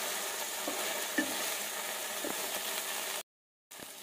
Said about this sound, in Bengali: একদম ড্রাই ফ্রাই করতে হবে,